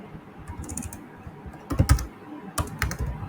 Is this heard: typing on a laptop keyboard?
yes